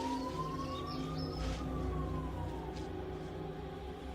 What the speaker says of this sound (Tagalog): Ayun, tama-tama may ambulansya.